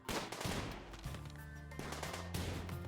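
Gunfire from shooters in the RimWorld video game, a dense run of sharp shots over a steady backdrop of game music, continuous and moderately loud throughout.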